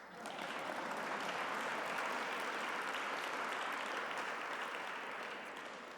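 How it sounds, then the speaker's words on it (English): Sustained applause from a large audience at a charity gala, a dense even wash of clapping that swells in quickly and holds steady, easing off slightly near the end. "You can applaud for that."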